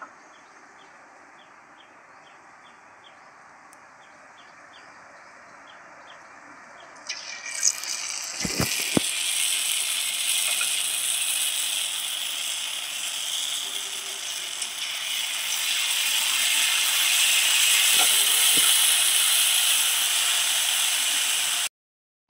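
Boondi drops frying in well-heated oil with a slotted ladle. A loud, bright, continuous sizzle starts abruptly after a quiet stretch and grows fuller toward the end, with a few brief clinks of the ladle, close and without talk.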